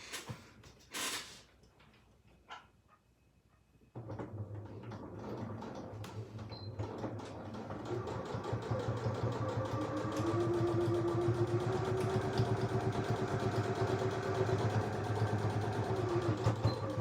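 A sewing machine stitches along the edge of a fabric coin purse. After a few quiet seconds with soft handling noises, a steady mechanical whir and rapid needle clatter start up and run continuously, close and moderately loud.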